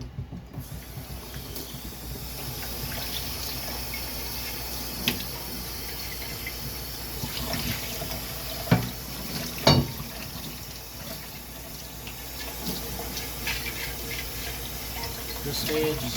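Tap water runs and splashes steadily while bleach is rinsed out of a phytoplankton culture vessel, with a few sharper clunks and knocks of the vessel against the sink midway.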